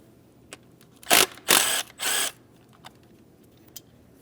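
An 8mm mounting bolt comes off a 3.5L V6 Ford Edge engine in three quick, sharp bursts of ratcheting or tool noise, close and fairly loud, with faint clicks before and after.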